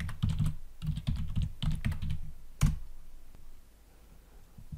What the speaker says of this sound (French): Tapez la commande code point et appuyez sur Entrée.